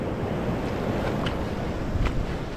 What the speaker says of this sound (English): A lot of big waves coming in.